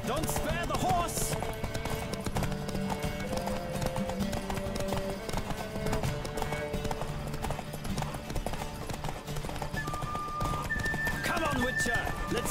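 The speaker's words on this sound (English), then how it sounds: "Don't spare the horse!" A horse gallops in a race in The Witcher 3, hooves drumming in a fast continuous clip-clop with neighs and game music layered in, while voices talk over the ride.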